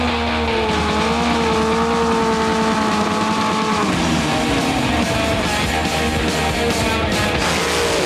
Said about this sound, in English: the mighty roar of dirty great motorbikes